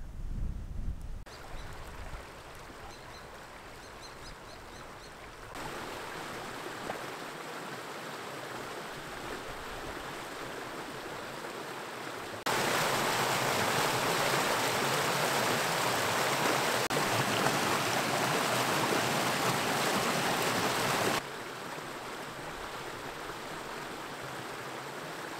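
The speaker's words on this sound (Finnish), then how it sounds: "Jopa ihana pieni vesi." A small stream flows steadily in the Kaldoaivi wilderness of northern Finland, a constant rushing water sound that grows louder midway as the listener moves closer, then eases back, with no voices.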